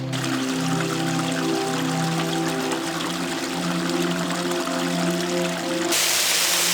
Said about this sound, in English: So over here is cascading waterfall over Dogwood Pond